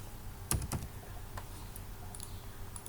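A couple of quick computer keyboard key presses near the start while working in an Excel spreadsheet, followed by faint scattered clicks in a quiet room.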